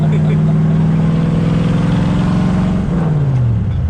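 A hot rod engine with straight-through mufflers runs steadily with a deep, throbbing tone, close and loud. Near the end the pitch drops as it settles back, and a voice talks over it.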